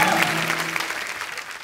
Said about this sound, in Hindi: आपकी जोरदार तालियों के बीच please welcome very beautiful Prachi Desai